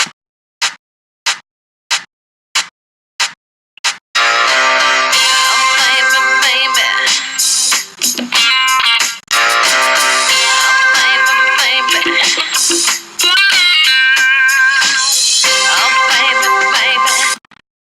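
Multitrack backing track stems play back together in Ableton Live: a few evenly spaced click-like hits open, then a dense, loud full-band music mix plays continuously with brief drops, no voices.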